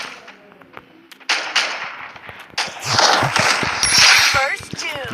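Rapid bursts of gunfire in the mobile shooter Free Fire during a room card match, loud repeated shots building in intensity, with people talking over the game.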